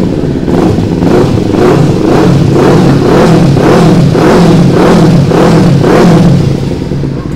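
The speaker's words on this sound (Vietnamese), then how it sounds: "Rồi, để mà cho anh em nghe tiếng bô ha." Kawasaki Z300 motorcycle exhaust revving up close and loud, with a steady engine roar pulsing in about eight regular rises and falls and no talking.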